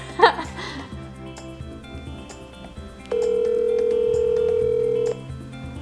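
A telephone ringback tone sounds as an outgoing call is placed, one steady two-second tone heard clearly after a short pause and some faint background noise, with no talking over it.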